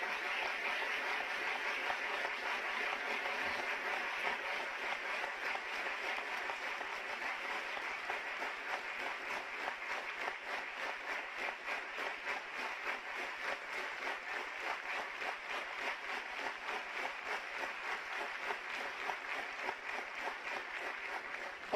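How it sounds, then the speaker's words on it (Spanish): Sustained applause from a large audience at a formal closing session of a legislative assembly, a steady dense roar of clapping that holds evenly for over twenty seconds without talk. "pido un fuerte aplauso de felicitación y reconocimiento a los educadores cubanos"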